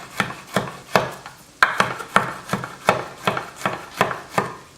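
A sharp knife slices through peeled Roma tomatoes on a board, about a dozen distinct cuts landing in a steady rhythm, close and clear with no talking.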